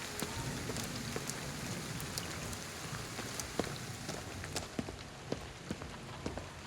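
Steady rain falls in the video game Ghostwire: Tokyo, a dense continuous hiss with scattered sharper drops tapping close by, with no talk.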